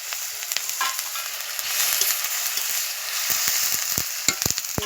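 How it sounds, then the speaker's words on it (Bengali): Chopped tomato, green chili and a pinch of salt frying in a little leftover oil for a pomfret dish, a steady broadband sizzle with scattered sharp crackles and spatters growing denser toward the end. "ওই তেলেতে দিয়ে দেবো একে একে টমেটো কুচি, দিয়ে দিলাম কাঁচা লঙ্কা, দিয়ে দিলাম সামান্য লবণ"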